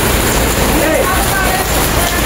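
Heavy rain pours steadily outdoors, a dense, loud, unbroken roar of drops with no pauses.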